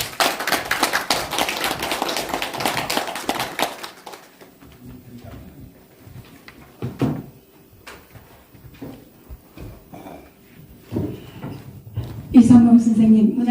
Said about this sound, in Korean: 등단할 때 큰 박수로 환영해 주시기 바랍니다